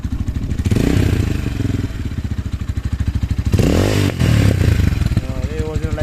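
Motorhead Scrambler 250 motorcycle on its stock exhaust, engine running loud and close with revving and irregular misfire pops and crackles, a voice talking over it.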